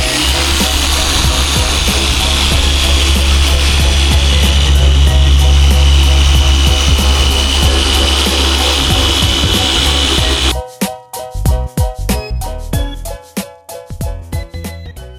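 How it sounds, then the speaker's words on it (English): Heavy car polisher with a microfiber pad working paint on an Audi RS4, a loud, steady droning whir that runs for about ten seconds before cutting off into irregular clunks and knocks. "we're going to use I think a microfiber pad with a very heavy polisher, and then we're going to try to fix those scratches"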